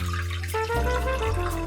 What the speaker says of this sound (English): Prepare the pan and add some water to it.